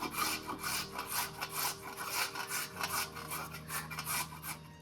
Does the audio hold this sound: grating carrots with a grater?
yes